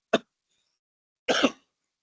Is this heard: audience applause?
no